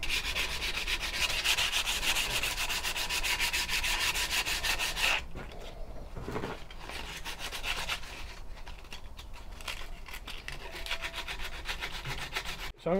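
Steady, close rasping of sandpaper on a wooden walking stick with burnt spots, with rhythmic back-and-forth strokes, then a lighter, slower scraping phase.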